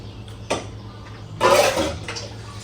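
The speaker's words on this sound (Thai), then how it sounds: "น้ำปลาต้มสุก หอมเลยหอมแบบเข้มข้น ใส่เข้าไปชุ่ว" Boiled fermented fish sauce poured into a pot of Thai eggplant soup: a short splash, then a louder liquid pour of about a second that tapers off, close by, with no talking.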